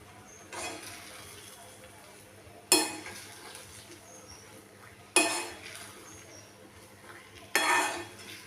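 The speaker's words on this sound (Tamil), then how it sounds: "இப்போ வந்து இந்த நட்ஸு வறுத்து வச்சுருக்கோம்ல நெய்யில் அது போட்டு விட்டுடலாம்" Ghee-roasted nuts go into rava kesari, followed by stirring in a pan: four sweeping scrapes about two and a half seconds apart, each starting sharp and fading, over a low background.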